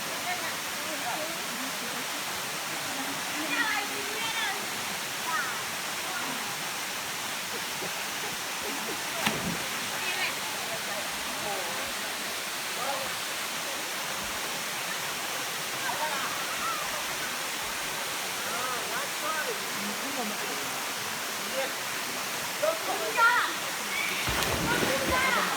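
Waterfall roaring as a steady broadband wash of falling water at a swimming spot, constant and fairly full throughout with a few brief louder bursts.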